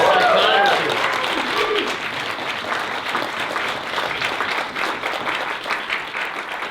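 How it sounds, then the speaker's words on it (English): Audience at a Friday-night positive psychology event applauding, a loud burst of clapping at the start that settles into a sustained crowd patter, with a voice talking over the opening moments. "let's hear a big round of applause for everybody being here on a Friday"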